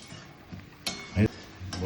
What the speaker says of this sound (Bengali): মশলাটা কষানো হচ্ছে ভালো করে, নাহলে এই কাঁচা পেঁয়াজ আর টমেটোর গন্ধ লাগবে।